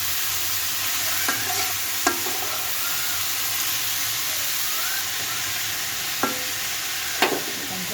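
Carrot and potato stir-fry with onion and green chilli being stirred in a pan, a steady loud sizzle under a few sharp scrapes and clinks of the spatula, with no talking.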